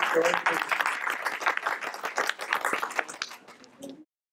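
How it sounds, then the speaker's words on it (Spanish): Applause from a crowd, a dense patter of clapping that fades out after a few seconds. "Merecen un aplauso, ¿no?"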